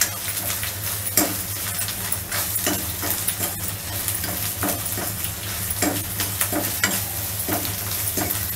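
Dry spices (coriander, turmeric and salt) fry in a pan for a halwai-style potato curry, giving a steady close sizzle broken by regular scraping stir strokes.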